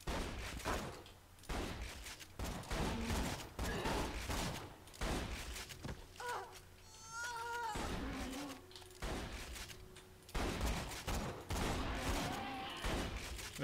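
Shots and combat noise in Borderlands 2, a series of sharp cracks and thumps spread irregularly across the stretch, with tonal electronic game sounds in the middle and a fairly quiet overall level.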